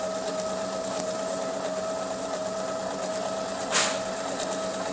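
A Pfaff 1132 sewing machine stitches with a steady, even mechanical whir close by, a brief click near the end, and no talking.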